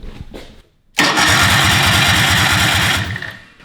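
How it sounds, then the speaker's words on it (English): A dragster engine cranks over briefly, then catches and runs with a loud, rough, pulsing roar for about two seconds before dropping off, close and dominant. "Let's see if it cranks over."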